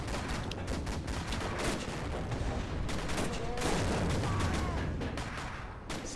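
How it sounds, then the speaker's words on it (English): A German machine gun firing in the tank game Steel Fury, its rapid rattling bursts blending with heavier booms and artillery rumble in a loud, continuous battle din. "that's the German machine gun"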